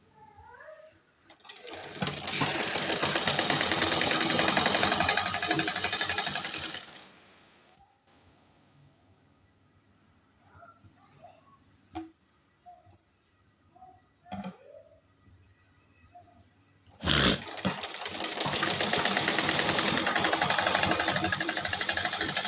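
A sewing machine stitching a salwar runs in a loud, steady burst for several seconds, pauses through a stretch of quiet handling clicks and rustles, then starts stitching again close by.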